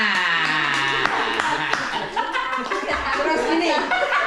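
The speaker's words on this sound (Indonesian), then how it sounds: "Oke, tepuk tangan." A small group of people clapping and laughing together for a few seconds, with lively chatter and chuckles mixed into the applause.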